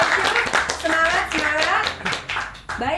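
An audience clapping briefly at the opening of a podcast, quick bursts of hand claps mixed with people talking and cheering over them.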